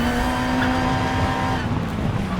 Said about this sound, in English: I have to start braking before the top of the hill.